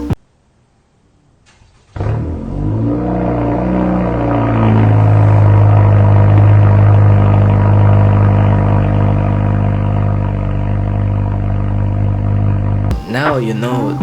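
A straight-piped Honda Civic hatchback engine with no downpipe starts after a quiet pause and settles into a loud, steady, deep exhaust drone held for about ten seconds before cutting off abruptly.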